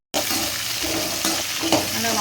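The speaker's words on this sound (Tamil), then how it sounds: "போட்டு நல்லா வணக்கி விட்டுக்கிறீங்க." Small onions, curry leaves and tomato sauté in a pan for a mutton curry, giving a loud close sizzle with stirring scrapes and clinks, no voices.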